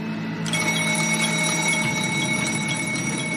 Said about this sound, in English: an alarm activates inside the driver's cab.